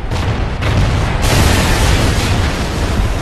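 An aircraft gun run in Call of Duty Ghosts tears into the ground with a loud, dense burst of explosions, a sharp blast onset followed by sustained rumbling impacts close by.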